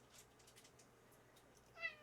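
A cat meows softly from nearby in a quiet room, with a brief, slightly louder call near the end over faint background hum.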